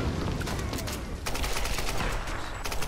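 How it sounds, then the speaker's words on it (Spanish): Rapid gunfire in the Tomb Raider video game, a dense fusillade of overlapping shots with bursts of automatic fire, continuous and fairly loud across the whole stretch. "¿Por dónde salen los tiros ahora?"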